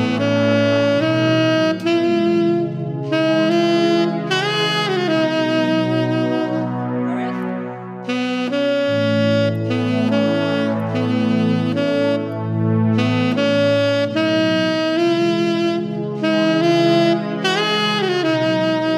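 Tenor saxophone plays the melody of a song with backing accompaniment, a steady, loud, continuous line of sustained phrases and short pauses, with no talking.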